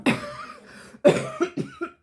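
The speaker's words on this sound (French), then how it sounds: "En plus, c'est tout gras quand je tousse." Two bursts of harsh, phlegmy coughing sound up close, the second made of several rapid coughs trailing off.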